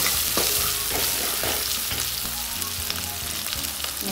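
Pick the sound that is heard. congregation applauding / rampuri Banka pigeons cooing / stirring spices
stirring spices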